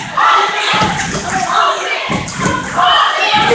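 A crowd at a high school basketball playoff game between Florien and Madison Prep fills a gym with loud chanting and shouting, rising and falling in rhythmic waves, with thuds mixed in.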